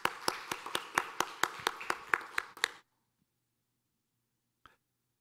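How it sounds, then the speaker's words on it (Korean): A church congregation gives a short round of thanks during a Sunday morning service: about a dozen sharp, evenly spaced claps close by, stopping abruptly into near silence, with one faint knock afterward. "오늘 대접하는 분들에게 감사의 마음 담아 박수 보내겠습니다"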